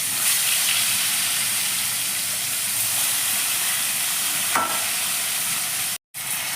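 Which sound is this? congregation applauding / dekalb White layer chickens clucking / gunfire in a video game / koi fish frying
koi fish frying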